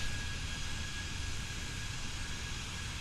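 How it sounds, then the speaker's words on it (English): The APU of a Boeing 737 in the PMDG flight simulator game spools up with a steady, faint turbine whoosh and a thin high whine held throughout. No one speaks over it. "Get the APU spooling up."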